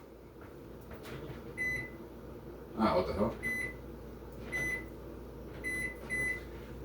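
A timer beeps for the start of a saber staff warm-up: short, high electronic beeps repeat in small groups over a quiet room, and a voice speaks briefly in the middle.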